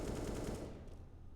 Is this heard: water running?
no